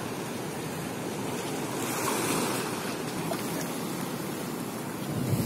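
Ocean surf rolls steadily onto a beach at sunset, a continuous broadband wash of waves with slight swells in loudness and some wind buffeting the microphone.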